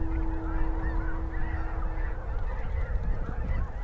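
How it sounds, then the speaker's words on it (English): A gaggle of geese honking in flight over harvested fields between fall and winter, a dense continuous chorus of overlapping honks with a low rumble underneath. "the gaggles of geese are flying on through"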